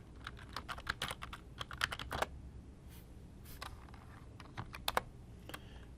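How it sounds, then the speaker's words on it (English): A name and password typed on a computer keyboard, quick bursts of close, crisp key clicks with a short pause midway before a few more taps. "we connect to the device, type in the name"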